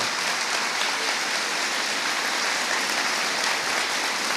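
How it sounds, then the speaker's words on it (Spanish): Sustained crowd applause at a Catholic talk, a dense wash of clapping from many hands at steady loudness throughout, with no voices standing out. "Un aplauso para estos hermanos que nos acompañan en esta hermosa tarde"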